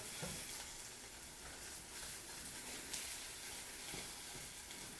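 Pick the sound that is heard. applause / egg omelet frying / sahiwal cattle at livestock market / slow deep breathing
egg omelet frying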